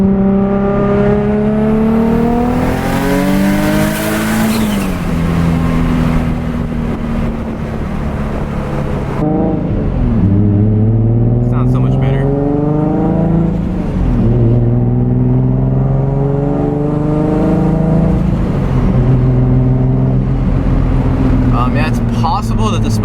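A Nissan Z car engine revs repeatedly under boost, with rising and falling harmonic sweeps over a steady loud rumble lasting throughout, close to the listener.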